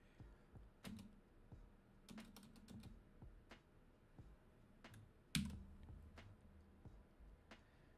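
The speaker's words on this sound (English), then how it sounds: "Can't multitask. I'm typing." A computer keyboard is typed on in quiet, irregular bursts of soft key clicks, with one sharper louder tap partway through and no talk.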